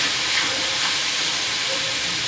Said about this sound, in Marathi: आणि हे बघा आता मी तेलामध्ये कांदा चांगला परतून घेणार आहे